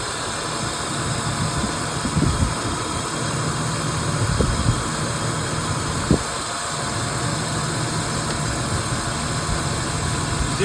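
A BMW E36 engine idles close by with a steady, even drone, punctuated by a few brief knocks and clunks as work is done around it.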